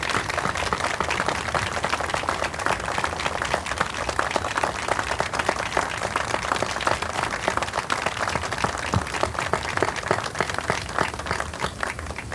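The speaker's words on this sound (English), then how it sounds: "we would like to give you a hearty round of applause" Sustained, hearty applause from a large crowd at the Oklahoma Medal of Honor Memorial dedication, steady dense clapping for standing veterans of the American Armed Forces that holds at an even level from start to finish.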